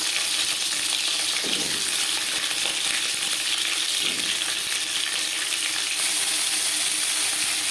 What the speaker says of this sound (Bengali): সবার প্রথমে আমি পটল ভেজে নেব দিয়েছি দু চামচ রিফাইন্ড অয়েল